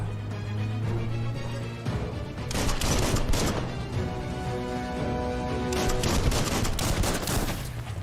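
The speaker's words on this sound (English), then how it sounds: "Bullets everywhere." Dense video game gunfire in Biomutant, a continuous stream of rapid shots and bursts layered over a game music bed, loud and busy throughout with no talk.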